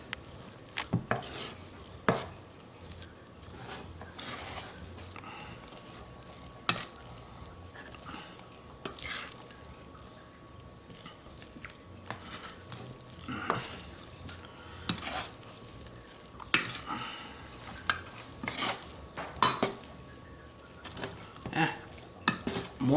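Ciabatta bread dough is stirred and folded in a bowl with a utensil, giving repeated soft scrapes and light clinks at an uneven rhythm, close and fairly quiet, with no talking.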